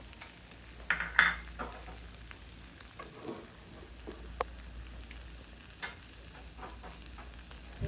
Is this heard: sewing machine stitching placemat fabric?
no